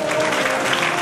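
An audience at a Bhagavat Katha religious gathering in Darbhanga claps in a dense, steady burst of applause, close and sustained for the whole moment.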